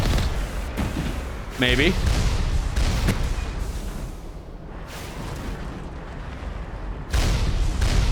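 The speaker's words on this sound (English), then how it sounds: "Okay, those are missiles." Missiles exploding in the video game Mass Effect, heavy booming blasts and rumbling impacts filling the mix, with a loud burst near the start and another near the end, while a player talks over the action.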